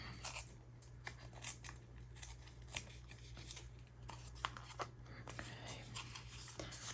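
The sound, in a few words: tearing paper for altered card craft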